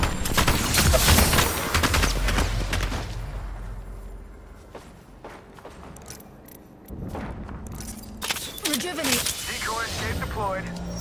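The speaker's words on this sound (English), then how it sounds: "Yeah, getting shot at." Gunfire in the video game Apex Legends, with dense bursts of automatic shots up front and again near the end, a quieter lull in between, and game sounds mixed throughout.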